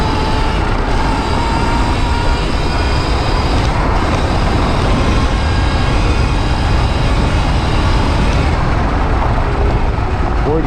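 A Sur Ron electric motorbike on a stock motor with a KO Moto controller accelerates hard in sport mode, making a loud, continuous rush of motor whine and wind noise that stays steady throughout.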